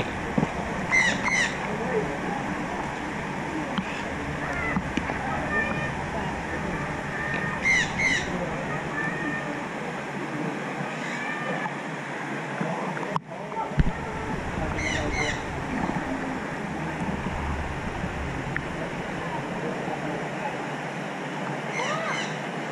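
Large birds squawking in an aviary at a marine theme park, repeated harsh calls in short bursts over a steady wash of ambient noise, with occasional nearby voices.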